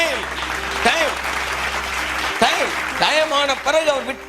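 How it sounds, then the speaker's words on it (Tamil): Clapping from a church congregation during a Tamil Christian sermon, a steady wash of applause running under tonal music and a voice throughout. "கைத்தட்டுங்க ஒருத்தர் அவருக்கு."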